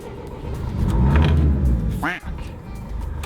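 An empty van's engine rumbles and swells as gas is pressed while trying to start it, a loud, close, low roar rising and falling, with someone talking over it.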